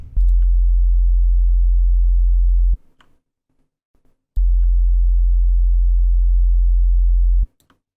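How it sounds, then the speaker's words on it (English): A low, loud sine tone plays in two sustained bursts separated by a short silence, with a faint added grit from subtle transformer-style saturation in the FabFilter Saturn 2 plugin. "Subtle saturation, transformer."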